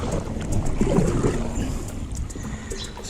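A small boat is paddled along the Dumbea River, with soft water splashes and occasional dips of the paddle under a steady rush of wind buffeting the microphone.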